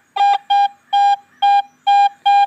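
A Garrett AT Pro metal detector sounds six evenly spaced, loud electronic beeps while sweeping over bottle caps, each tone short and sharp, with no one speaking.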